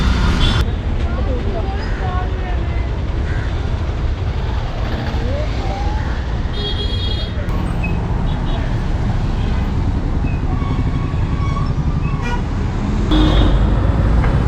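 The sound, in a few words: Saidapet police station bus stand traffic, city low-floor bus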